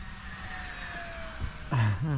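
Model airplane on its maiden flight, a faint high engine whine drifting overhead with wind noise, followed by a brief louder rushing pass near the end.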